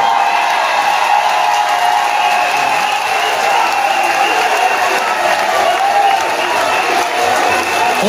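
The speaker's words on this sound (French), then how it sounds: "je vous demande de vous lever et de l'applaudir très fort" Crowd at a political rally in Gabon applauding and cheering loudly for a presidential candidacy, a steady, dense roar of clapping and voices that stays loud and unbroken throughout.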